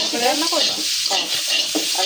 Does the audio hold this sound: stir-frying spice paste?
yes